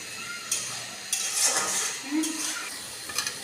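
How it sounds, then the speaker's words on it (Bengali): Spice paste with turmeric frying and being stirred in a pan, with short scraping strokes of a utensil over a light sizzle, close and moderately loud. "এখন সুন্দর করে নাড়াচাড়া দিয়ে ভালো করে মশলাটা কষাই"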